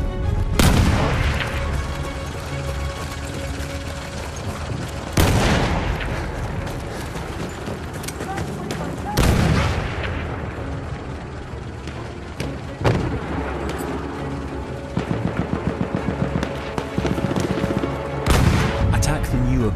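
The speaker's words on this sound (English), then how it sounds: "wait for the enemy artillery barrage to stop firing" Artillery barrage and gunfire in the video game Battlefield 1: heavy booming blasts land several times, with crackling shots and a rapid burst of machine-gun fire late on. The sound is loud and continuous throughout, with no talk over it.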